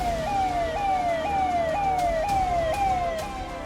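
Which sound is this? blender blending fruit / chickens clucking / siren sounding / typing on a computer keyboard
siren sounding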